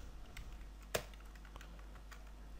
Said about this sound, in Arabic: ونكتب هنا print ميدو